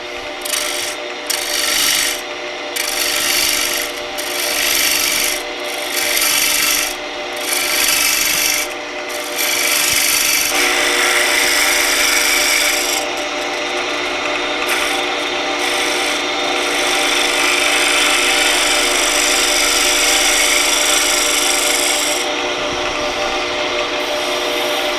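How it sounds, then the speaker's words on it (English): Steel bowl gouge cutting a chamfer into a wooden table lamp base spinning on a lathe, a steady rasping scrape of wood that pulses in short strokes at first, then runs as one continuous loud cut with no talk. "Now I'll simply chamfer between that line and this edge here with the bowl gouge again."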